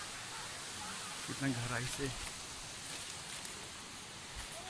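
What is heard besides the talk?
Tamada Ghumar waterfall, water falling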